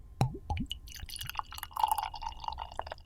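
Beer poured from a bottle into a glass: a few gurgling glugs at the start, then a continuous splashing, bubbling fill at close range, with no talking.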